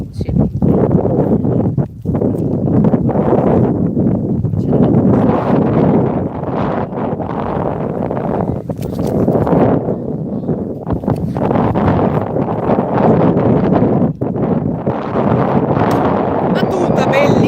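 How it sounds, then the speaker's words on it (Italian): Strong wind buffeting the microphone at an outdoor baseball game, loud continuous low roaring gusts rising and falling throughout, with a voice talking underneath. "C'è un forte vento"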